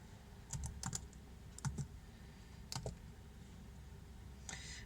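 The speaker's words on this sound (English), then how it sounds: "you need to type reliability history" Fingers typing on a computer keyboard, a few quiet clusters of keystrokes close by over a low hum, no speech.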